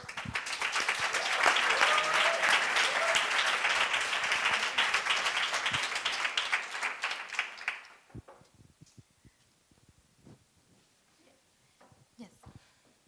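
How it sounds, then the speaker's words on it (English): Audience applause at a marine science pitch day event, a dense, even burst of many hands clapping for about eight seconds, then fading into scattered sounds as a speaker begins talking. "Please, an applause for Hi."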